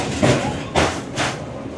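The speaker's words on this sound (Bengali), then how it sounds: "ট্রেনটা কিন্তু কোলাঘাট ব্রিজে এসে একটু স্লো করে দেয়" A local train on the Howrah–Digha line rolls over Kolaghat bridge, giving three evenly spaced bursts of wheel clatter over a steady rumble of carriage noise.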